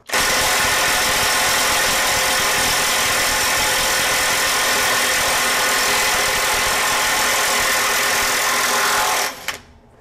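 A Kobalt mid-torque impact wrench runs at 700 foot-pounds in one continuous, loud, close whirring and hammering burst lasting about nine seconds, then cuts off sharply.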